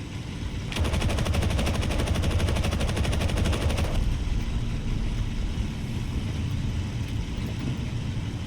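Aircraft machine gun fire in Aces of Thunder, a loud, dense rapid burst lasting about three seconds over a constant roaring engine drone that carries on after the shooting stops.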